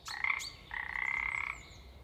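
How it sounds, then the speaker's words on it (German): A frog croaks in a Grimm fairy tale audio play, two distinct croaks, a short one then a longer drawn-out one, clear and close against a quiet background with no voices. "Er soll bei den anderen Fröschen im Wasser bleiben und quaken."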